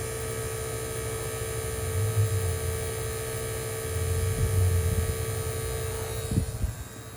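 A small battery-powered vacuum pump runs on an ice machine, giving a steady low motor drone with a pulsing throb and a constant electrical hum, ending in a few sharp handling knocks.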